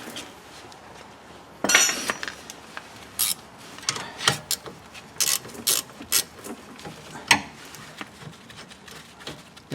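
Ratchet loosening the rear brake caliper bolts on a 2012 Nissan Altima 2.5L, heard as several short bursts of rapid clicking with pauses between them, close up and with no talking.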